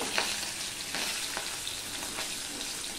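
Hilsa fish fries in a little oil, a dense, close, continuous sizzle with a few soft scrapes as the pieces are turned over, and no speech.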